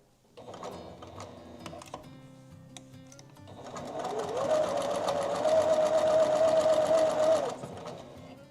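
A sewing machine chain-pieces quilt fabric in a home sewing room: a short burst of stitching, a brief pause, then a longer, louder steady run of rapid needle chatter before it slows and stops.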